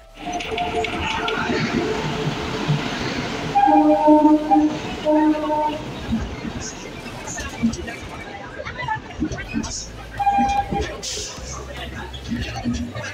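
The Taj Express train pulls into Agra Cantt station amid steady rumbling and clatter of railcars, with horn-like tones and a busy platform murmur; someone talks over the noise.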